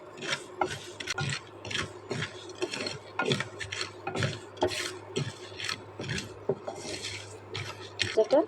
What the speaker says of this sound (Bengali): এটা একসাথে আমি এখন মিলিয়ে ভেজে নেব।